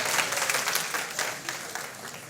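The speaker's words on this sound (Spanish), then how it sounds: "Denle un aplauso a los varones." A church congregation applauds during a Sunday sermon, a dense wash of many clapping hands, steady and fairly loud for a couple of seconds with slight crowd noise beneath.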